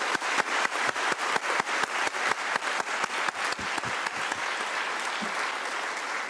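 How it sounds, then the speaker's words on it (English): An audience at the closing session of the United Nations Civil Society Conference in Nairobi applauds in a room. Loud crisp claps fall in a fast, even rhythm that gradually softens into a steady patter. "May we please give them a round of applause."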